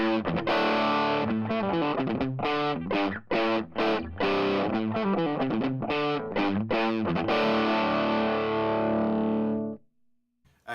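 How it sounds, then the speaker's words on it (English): Electric guitar through a 1953 Gibson GA-40 amp boosted by a Timmy version 1 overdrive pedal; a loud, saturated riff of chugged chords and short stops, ending on a sustained ringing chord that fades out. "So now let's hear that same exact thing boosted with the Timmy version 1."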